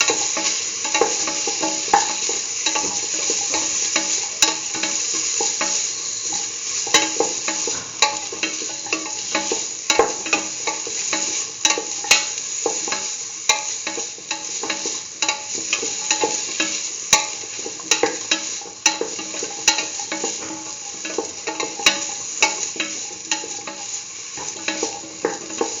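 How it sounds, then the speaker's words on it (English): Beetroot pieces being stirred into a sizzling pan of curried chickpea mixture. A spoon scrapes and clatters steadily against the pan over a constant close frying hiss, with no talking. "Mix in the beetroot pieces with the rest of the mixture."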